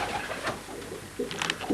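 Racing pigeons at a pigeon-fancier club loft give soft, low throaty coos that come in short bursts over a faint, busy background.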